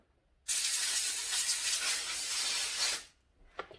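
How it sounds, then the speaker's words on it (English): A can of cleaner sprays into a generator part with a steady hiss for about two and a half seconds, starting and stopping abruptly, followed by a few small clicks. "Give it a spray."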